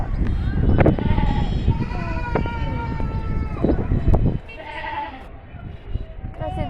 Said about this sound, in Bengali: ছাগলের বাচ্চা আসছে